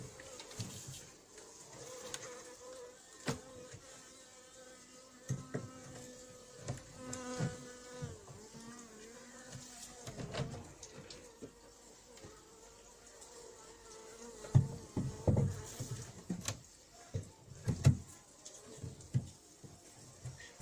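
Honeybees buzz steadily around an opened hive during an early spring inspection in the Šumava region, a continuous insect drone with scattered sharper bursts and knocks toward the end, no talking.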